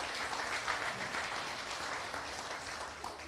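A church congregation at an anniversary service applauds, a dense continuous wash of clapping from many hands, fairly distant and even throughout with no clear speech over it.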